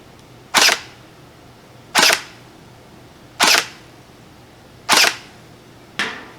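An Out-of-Darts BK-1S foam dart blaster fires five sharp, evenly spaced shots about a second and a half apart, each a loud snappy pop with a short tail, with no talk.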